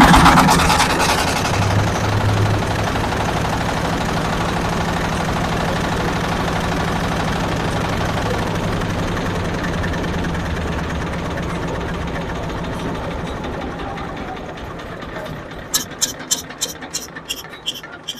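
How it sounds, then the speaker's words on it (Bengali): A new-model self-start vehicle engine with a four-corner gear, running as a steady mid-pitched idle with vibration for most of the time, then fading into a few sharp clicks near the end. "একটু স্টার্ট দিয়ে দেখাই।"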